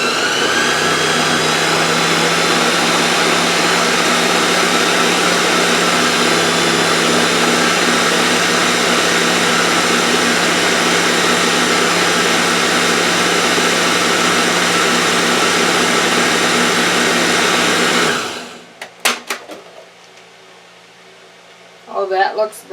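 An electric mixer whirs steadily through muffin batter thinned with milk for blueberry and cranberry muffins, a loud continuous motor drone lasting about eighteen seconds before cutting off, followed by a few faint clinks.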